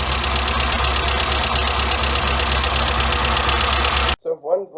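An engine with a Weber 38 DGAS carburetor idles loudly and steadily with an even, slightly knocking pulse, then cuts off abruptly, after which a voice speaks.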